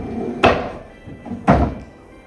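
A self-closing pharmacy drawer on budget household-grade slide mechanisms shuts twice, each a firm close thunk about a second apart, heard near and alone in a quiet room.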